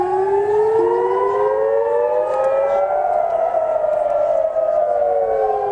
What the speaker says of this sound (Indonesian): Sirine meraung di kota-kota Israel dan keadaan darurat diumumkan